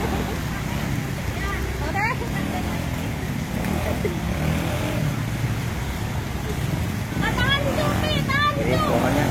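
Motorcycles and other vehicles crawl along the edge of a road blocked by a fallen tree after heavy rain and strong wind, making a steady engine and traffic rumble with a brief horn, under constant nearby chatter.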